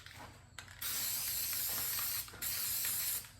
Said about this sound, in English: you're going to be spraying the headliner